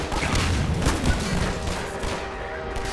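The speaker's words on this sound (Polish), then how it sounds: "Co oni tak mocno strzelają?" Heavy gunfire rattles in Half-Life 2 as a dense, continuous barrage of shots and bursts, loud and sustained throughout with no pauses.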